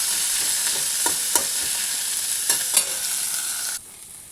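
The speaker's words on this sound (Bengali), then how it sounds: "আর এটাকে আমি পেঁয়াজটা একটু লালচে করে ভাজবো।" Onions frying in a pan while being stirred, a constant bright sizzle broken by a few scraping taps of the spoon, close and alone, ending abruptly.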